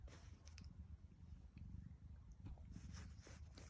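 A house cat purrs in a soft, low, rhythmic rumble, close and faint, with light rustling from petting.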